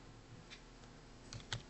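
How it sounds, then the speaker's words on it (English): Light typing on a computer keyboard, a few sparse, quiet key clicks against a soft background hum. "or you can just find out by typing"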